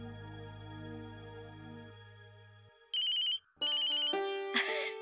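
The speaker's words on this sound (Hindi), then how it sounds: "लो अक्षरा का ही फोन है।" A telephone ringtone plays as an electronic melody of bright repeated tones, preceded by a low sustained musical tone, at moderate volume with no talk.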